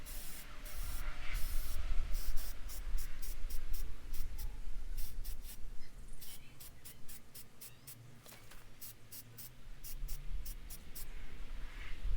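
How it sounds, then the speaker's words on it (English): Short bursts of hissing spray from an aerosol can, coming in quick irregular pulses with brief pauses, close and fairly quiet, over a low background rumble. "So it's a spray paint can."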